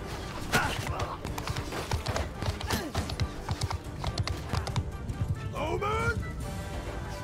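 Horse hooves gallop in a clattering rhythm through a medieval battle in the video game Mount & Blade 2: Bannerlord. The thudding clip-clop mixes with clashing noise and game voices or shouts, fairly loud and busy.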